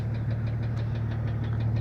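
A Jeep Cherokee 4.0 engine runs at a steady idle, with a fast, regular light ticking like lifter noise riding over the low hum and no other sounds.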